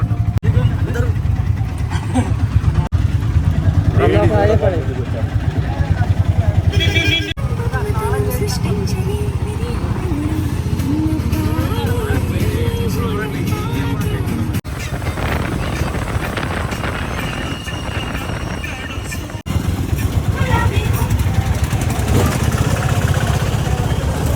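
A small auto rickshaw engine drones and rattles steadily throughout a ride in Tirupati, with people talking over it and a few knocks and bumps along the way.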